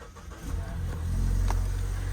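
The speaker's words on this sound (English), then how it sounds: "We'll start the car up, push button start." A 2023 Mazda CX-9 Sport comes to life with a push-button start: a brief starter whirr, then a steady low engine idle that swells slightly and holds, heard from inside the cabin.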